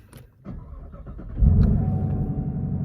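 2020 Chevrolet Camaro with the LT1 engine, heard idling quietly before the engine swells into a loud, deep rev around the midpoint and holds a rumbling, close-up growl to the end.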